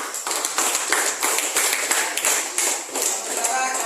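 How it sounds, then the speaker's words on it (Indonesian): Students clap for a classmate in a classroom, a quick burst of fairly close, uneven hand claps that keeps going steadily for a few seconds. "Kita tepuk tangan untuk Mercy."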